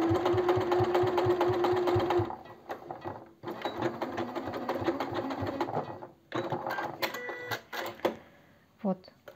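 A sewing machine stitches along the folded edge of knit fabric while sewing women's trousers, a loud fast rhythmic whir that runs steadily, pauses, then restarts in shorter bursts, with someone talking over it.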